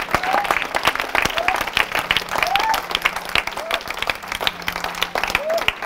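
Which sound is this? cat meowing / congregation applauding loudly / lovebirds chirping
congregation applauding loudly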